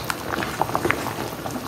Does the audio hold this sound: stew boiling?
yes